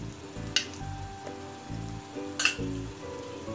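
Malpua cooking in ghee in a pan gives off a soft, steady sizzle with faint crackle. Two brief clinks or scrapes break in partway through, and no one speaks.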